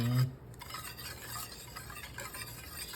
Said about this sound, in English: So we're gonna just whisk that together.